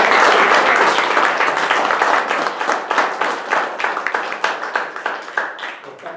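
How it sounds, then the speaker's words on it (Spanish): An audience applauds at a Chilean magazine launch event. The clapping starts as a loud, dense roar and thins into scattered, distinct claps that fade toward the end. "Pido un aplauso para ellos que han venido"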